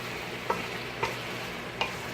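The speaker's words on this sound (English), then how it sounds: "Now I'm going to mix everything in, now that I have all my seasonings." Jamaican curry chicken being stirred with its seasonings in a pot, a soft steady sizzle broken by three faint scraping clinks of the spoon at irregular intervals, with no one speaking.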